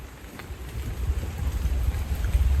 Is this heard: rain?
yes